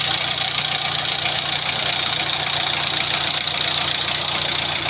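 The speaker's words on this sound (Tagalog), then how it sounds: "ito ang makina ito Isuzu" An Isuzu engine in a Wrangler-type jeep idles steadily with a low rumble and faint knocking, constant and close throughout, with no voices.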